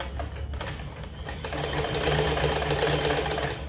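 A Stitch Queen sewing machine runs while overlocking falls onto a saree, a steady, close mechanical whirring that speeds up and holds an even, rapid stitching rhythm.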